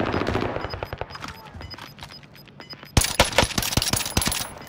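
Video game gunfire: scattered single shots and short bursts crackle at moderate distance, then a louder, denser run of rapid automatic fire takes over in the second half, with no talking over it.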